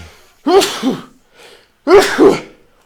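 Two loud sneezes close to the microphone, each a sharp inhale-and-burst, separated by a short pause with a faint breath between.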